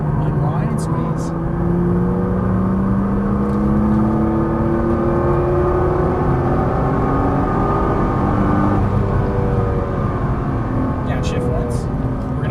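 A Nissan GT-R accelerating out of a chicane at Las Vegas Motor Speedway, its engine note rising in steady sweeping harmonics from inside the cabin, loud and continuous under an instructor's spoken coaching.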